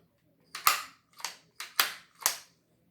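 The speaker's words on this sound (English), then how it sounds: "Now the bolt will reciprocate." Ruger 10/22 rifle bolt worked by hand: five sharp metallic clacks in quick, uneven succession, close and crisp with nothing else around them.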